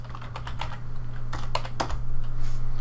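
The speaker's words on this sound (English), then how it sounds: "whatever I type in here is gonna be labeled inside of my model" Keys clatter on a computer keyboard in quick irregular bursts, close and clear over a steady low hum.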